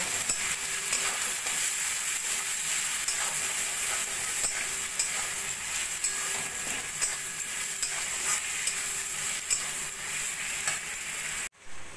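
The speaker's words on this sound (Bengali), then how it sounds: "দিয়ে ভালো করে মশলার সঙ্গে চিকেনটাকে কষিয়ে নেব।" Chicken with cumin, chili powder and chopped tomato sizzles steadily in a pan while being stirred, a continuous close-up frying hiss with scraping strokes, ending abruptly with a brief dropout.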